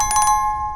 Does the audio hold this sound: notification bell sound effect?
yes